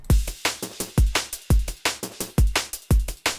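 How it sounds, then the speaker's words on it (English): A punchy, layered drum break loops at a slow, steady groove, with booming kicks and crisp snares and hats, no voices. "this is how we got our drum mix. So it sounds like this"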